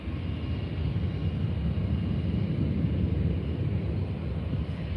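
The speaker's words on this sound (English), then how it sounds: "Now taxiing to the runway are an EasyJet and British Airways." EasyJet and British Airways airliners taxiing at Faro Airport in Portugal produce a steady, dense jet-engine roar that holds at an even level with no pauses and no voices.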